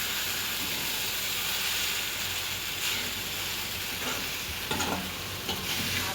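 Vermicelli chivda is stirred in a kadhai over the heat, with a constant oily sizzle and hiss and a few scraping strokes of the spoon against the metal toward the end.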